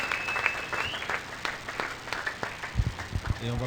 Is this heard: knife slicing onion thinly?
no